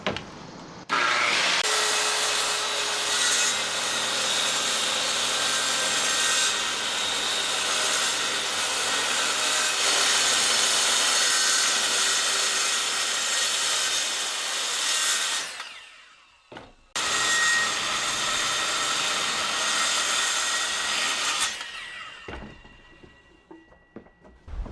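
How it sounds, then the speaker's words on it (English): A new power saw cuts wood strips for push sticks, a loud sustained rasping whine that runs about fifteen seconds, breaks off briefly, then resumes for several more seconds close up. "it gives me a chance to try out this new saw"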